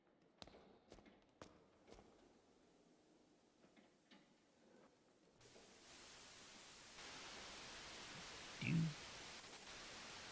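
A hiss of static from a camera feed in the video game Night Security swells in after some quiet ticks and taps, holding steady and faint, with a brief louder blip near the end.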